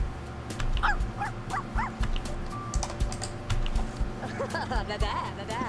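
A dog named Porthos, outdoors before a bath, lets out a few short whimpers and yelps with a bark or two, fairly faint amid soft background noise and some voices.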